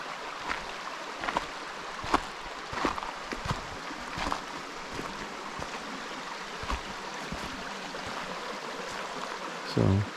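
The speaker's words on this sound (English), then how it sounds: "So just a small creek, but lots of big rocks." Small creek running over lots of big rocks: a steady, soft outdoor water rush with occasional light knocks and rustles nearby, fairly quiet and continuous.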